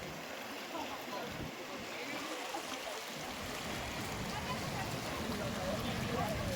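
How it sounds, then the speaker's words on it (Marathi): Ocean waves breaking on Kanyakumari beach at night, a steady broad wash of surf that grows slightly louder and denser across the clip, with no distinct individual crashes standing out. "उंचच्या उंच लाटा ये लागलेल्या आहेत"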